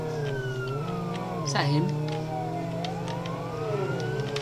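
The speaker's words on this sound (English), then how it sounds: "Let's turn our siren tone." Police siren from Roblox Jailbreak, a wailing tone sweeping up and down steadily beneath a low engine drone, loud and close throughout, with a brief voice speaking partway through.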